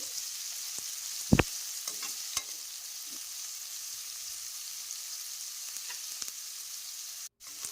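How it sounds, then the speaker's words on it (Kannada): Onions fry in oil until soft, making a steady, close sizzle. A few sharp clinks of a stirring spoon against the pan break through it. No one talks. "ಈರುಳ್ಳಿನ ಎಣ್ಣೆಯಲ್ಲಿ ಸಾಫ್ಟ್ ಆಗೋ ತನಕ ಬೇಯಿಸ್ಕೋಬೇಕು."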